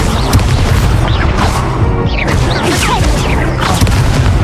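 Incendio fire spell cast in the Hogwarts Legacy video game bursts out in dense booming blasts of crackle and whoosh, loud and continuous, with bright sweeping tones layered over the din.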